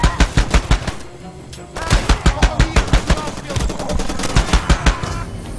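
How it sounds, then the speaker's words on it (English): Heavy machine gun fire from the video game Far Cry 2 comes as loud, rapid bursts of evenly spaced shots, with brief pauses between strings and background battle noise. "Heavy machine guns do damage."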